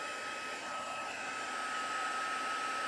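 Heat dryer blowing over stamped paper to dry StazOn ink, a steady close whirring hiss with a faint tonal whine, running without break and with no talk.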